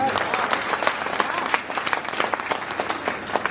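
Audience applause at a Hindi poetry recital, a dense crackle of many hands clapping steadily and fairly loud, with no pause across its few seconds.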